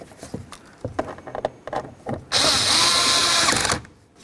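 After some close handling clicks and knocks, a power drill whirs loudly for about a second and a half, driving a screw into the door panel of a 2007-2012 Dodge Caliber during a window regulator replacement.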